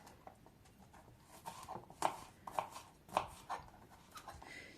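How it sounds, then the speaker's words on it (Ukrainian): A knife chops onion into medium-sized squares, close sharp taps on a board landing in an uneven series of roughly ten strikes, with a few louder cuts in the middle. "цибульку ріжу шматочками, такими не дуже великими, але не дуже і дрібними квадратиками"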